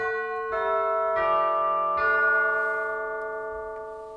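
Pipe organ chimes percussion stop played from the great manual, ringing bell-like tubular strikes, about four notes entering in sequence and sustaining with rich overtones, alone and fairly loud.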